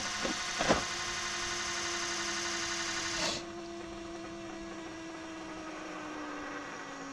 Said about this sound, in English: You can hear the pump starting to prime.